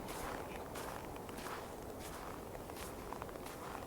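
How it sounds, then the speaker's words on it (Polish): Boots crunch on snow during a cold winter walk outdoors, a faint, even series of soft steps under a steady background hiss. "Zwróć uwagę, jak śnieg skrzypi pod butami, gdy stawiasz kroki."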